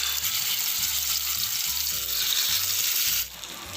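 Marinated chicken sizzles loudly in hot oil in a pan, a dense steady crackling hiss close by, with a low pulsing hum underneath and the sizzle easing slightly near the end.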